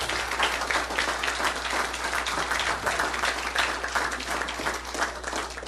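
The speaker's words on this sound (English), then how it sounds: "Another round of applause." Audience applause fills a city council chamber, a steady, dense wash of clapping from many hands held at an even level for several seconds.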